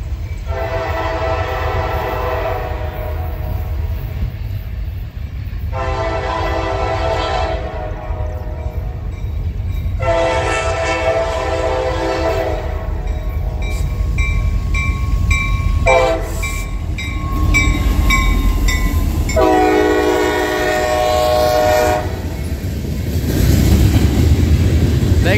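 Norfolk Southern freight train C39, led by locomotive 6311, rolls past near at Creighton, Pennsylvania, sounding repeated long horn blasts in several separate bursts over steady rumbling wheel and engine noise.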